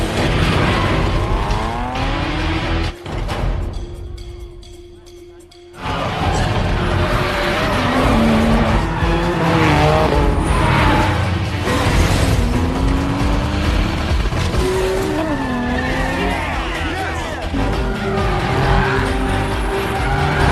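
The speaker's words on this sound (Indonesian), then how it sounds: "Sean sudah menunggu Takashi di garis start dan balapan pun dimulai" Race cars in a street race scene from The Fast and the Furious roar loudly with revving engines, screeching tires and skids, a brief lull in the middle before the dense, aggressive engine and tire noise returns.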